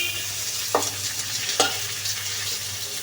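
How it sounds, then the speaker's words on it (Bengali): Chepa shutki, dried fish, fries in a pan with turmeric, onion and chilli, giving a soft continuous sizzle close up, broken by two sharp scraping strokes of stirring. "চেপা শুটকিটা ভাজা নিই।"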